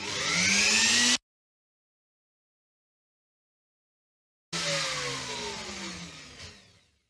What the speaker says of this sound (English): then I'll be able to route this part here